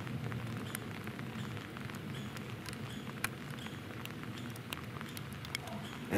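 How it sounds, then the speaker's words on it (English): Hail or snow falls steadily in a wooded ravine, a dense, even patter of small impacts with occasional sharper ticks, moderately loud and continuous, with no speech. "It's really hailing or snowing or something."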